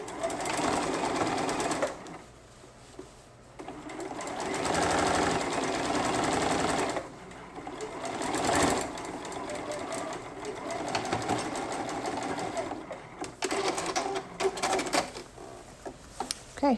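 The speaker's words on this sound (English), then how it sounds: "We're going to go back to our straight stitch and we're going to finish sewing between these 2 points." A sewing machine runs a straight stitch through skirt fabric in several long, loud, close bursts. Brief pauses and light handling noises come between the runs, with little talk.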